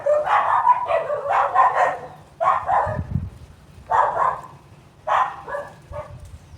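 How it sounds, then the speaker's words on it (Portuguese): Several pet dogs in a backyard garden bark in agitated bursts at neighbours building a house across the way, the barks coming in irregular clusters with short pauses between, fairly near and with no talking. "tem um pessoal construindo casa aqui do outro lado e as minhas cachorras vê e elas ficam agitadas"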